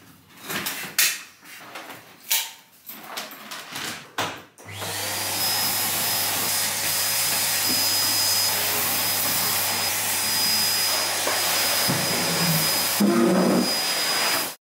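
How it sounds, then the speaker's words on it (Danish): An upright or canister vacuum cleaner runs steadily in a living room, its loud continuous motor whine with a high tonal note starting abruptly after a few seconds of clattering handling sounds and continuing unbroken to the end. "Jeg har simpelthen lige fået støvsuget herinde i stuen"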